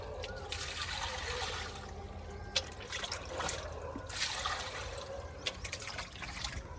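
Water runs and trickles steadily while a fish tank's water is being changed, with a continuous splashing wash and a few brief drips and clicks, close by and without talk.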